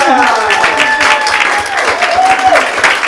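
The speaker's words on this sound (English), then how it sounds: "with a huge round of applause, please help us welcome to the stage Miss Trez Ephraim." A workshop audience breaks into a sustained round of applause to welcome a speaker to the stage, dense clapping with music playing alongside and a voice briefly over it.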